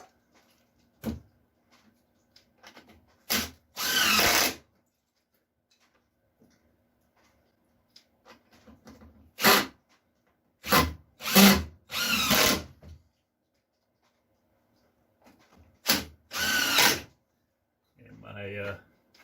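Power drill driving deck screws into the wooden roof of a large wishing well planter in a small home shop, several short loud whirring bursts with pauses between, and brief speech near the end.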